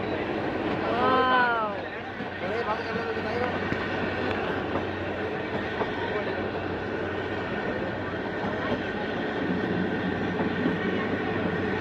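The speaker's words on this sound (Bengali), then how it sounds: "কিন্তু এই টয় ট্রেনে করে সিমলা যায়।" Heard from on board, the toy train to Shimla gives a continuous loud rumble and rattle of wheels and carriages, with squealing flange screeches near the start.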